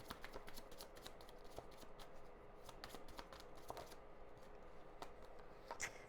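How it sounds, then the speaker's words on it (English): Tarot cards being shuffled by hand, quiet rapid riffling and soft papery flicks in irregular bursts, close and faint with no talk. "Sometimes when I'm shuffling, these cards like flip over, but they kind of get stuck."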